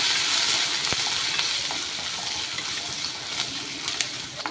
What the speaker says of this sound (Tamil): பூண்டை நல்லா வதக்கி விட்டுக்கலாம்